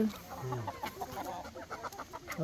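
Native country chickens in Karnataka cluck softly in quick, uneven bursts, fairly close, with low background noise.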